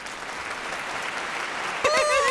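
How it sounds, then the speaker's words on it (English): A group audience at a wine business and education talk claps together, a dense patter of applause, fairly close, with a voice breaking in briefly near the end. "We need a clap track."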